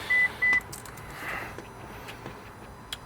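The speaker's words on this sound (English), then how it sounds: "if we just go ahead and turn the ignition on" Two short electronic chimes sound as a car's ignition is switched on with a Haltech ECU fitted, each beep brief and clear, followed by quiet background hiss and a few faint clicks.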